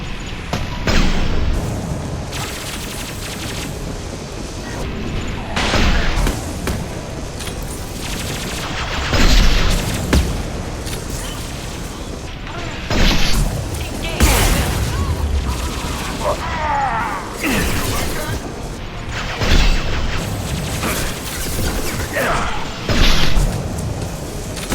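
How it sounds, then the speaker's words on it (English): A fuel tank is shot down and explodes in Mass Effect 2 amid a sustained firefight: continuous gunfire with heavy booming impacts recurring every few seconds, loud and dense throughout. "That fuel tank's coming loose. Shoot it! Bring it down on top of him."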